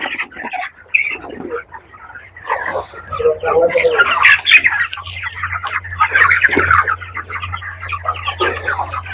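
Twenty-five-day-old chickens squawk and cluck repeatedly in a busy, close chorus under a low steady hum, with a person talking now and then.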